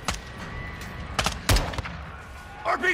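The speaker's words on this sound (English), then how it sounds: "Shooters at the wall! You called it, LP. Firing!" Gunfire in the Call of Duty Modern Warfare II game, several sharp shots cracking in quick irregular bursts amid battle noise, with shouted voices in between.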